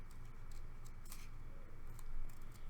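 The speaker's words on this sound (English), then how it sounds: "just going to quickly cut around it" Scissors snip roughly around a paper piece for a pop-up box card, a steady run of close, crisp cuts over a low background hum, with no talking.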